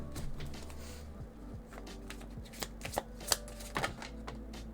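Tarot cards being shuffled during a full moon pick-a-card reading, a soft continuous riffling with a cluster of sharper card snaps and taps near the end, close and fairly quiet with no talking.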